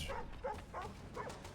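Dog in Assassin's Creed 3 giving a quick series of about four short, yappy barks in a steady rhythm, close and moderately loud against faint game ambience.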